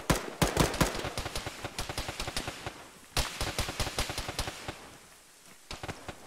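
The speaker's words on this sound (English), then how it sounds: "Taking fire from the bunker uphill southwest." Gunfire pours from a bunker in an Arma military game, with two long runs of sharp, evenly spaced automatic shots from a short distance, broken by a brief gap and then tapering off.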